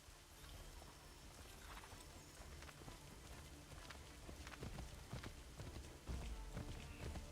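Horse hooves clip-clopping in the Assassin's Creed 3 video game, a steady run of soft thuds over a constant outdoor background hiss, moderately faint, with no voices.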